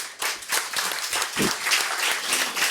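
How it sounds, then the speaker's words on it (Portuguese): An audience at a motivational seminar breaks into a short burst of applause, dense clapping that rises quickly and holds for a couple of seconds, with some voices underneath. "Uma salva de palmas."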